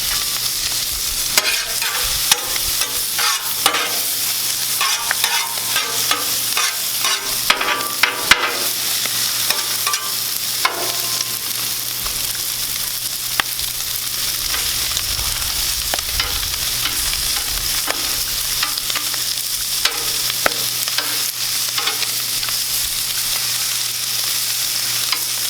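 Bacon and brats sizzling on a Blackstone griddle, a steady close hiss of fat frying with scattered pops and crackles and occasional spatula clicks, continuing evenly throughout.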